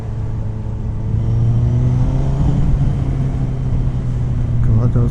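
A motorcycle engine pulling hard in second gear around 3,000 RPM after removal of the air injection system and carburettor jetting changes, a loud close rising drone with steadily climbing pitch, with wind rush over it.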